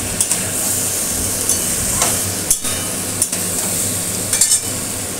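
Paneer frying in a pan gives off a loud, steady sizzle as water is added, with sporadic sharp clinks of stirring over constant kitchen noise.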